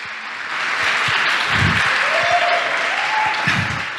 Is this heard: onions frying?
no